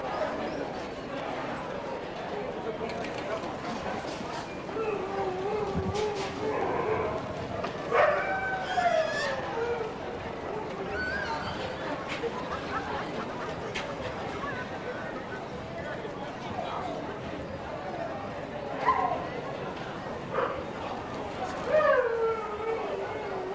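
Afghan hounds at a 1997 championship dog show in Birmingham, with scattered barks and yips rising over a busy indoor hall of murmuring voices and crowd chatter.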